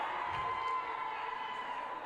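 Futsal match crowd at a Super Futsal game in an indoor arena, sustained cheering and roar from spectators after a double save by the goalkeeper, dense and steady throughout.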